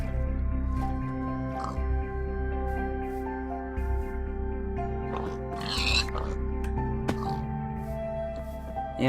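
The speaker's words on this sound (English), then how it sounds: "Yeah, sorry pigs," Pigs in Minecraft grunt and oink through a steady droning in-game background, with several short snorts and squelchy noises across the stretch.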